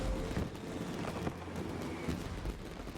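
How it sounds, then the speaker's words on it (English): Fireworks burst in Genshin Impact, with dense, rumbling booms and crackles layered over each other for a few seconds, loud and continuous. "You love the fireworks, huh?"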